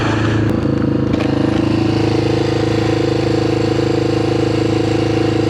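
A Yamaha XT600 motorcycle engine idles too high, a steady, loud, close-up rumble with an even pulsing tone that holds without change throughout.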